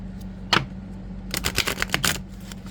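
Tarot cards shuffled by hand: a single riffle-like burst, then a longer run of quick, crisp flutters and snaps, fairly close and clear over a steady low background hum, with no talking.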